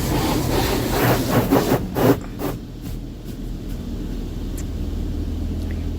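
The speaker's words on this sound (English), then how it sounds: "So now it's doing another high pressure." High-pressure spray from an automatic car wash blasts a truck, loud broadband hissing and rattling in pulses for the first couple of seconds, then fading to a low mechanical rumble inside the wash bay.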